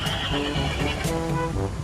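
A horse whinnies in a PlayStation video game, a loud, close neigh lasting about two seconds with soft hoof clip-clop underneath.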